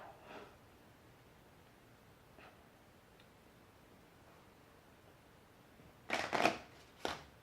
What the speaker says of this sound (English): I'm going to take my deck, I'm going to shuffle it a few times